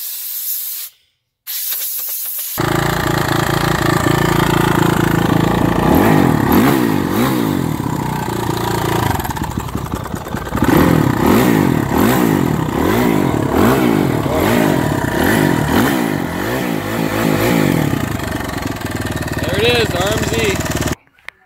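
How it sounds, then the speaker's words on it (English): Air compressor running while it recharges during cleaning of an LMM Duramax air filter: loud, close, steady hissing roar with a pulsing motor drone, starting abruptly after a short silent gap and holding to the end, with brief talk at the start. "So we just recharged the air compressor."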